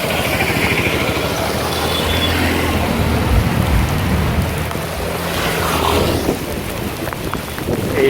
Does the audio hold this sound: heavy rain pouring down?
yes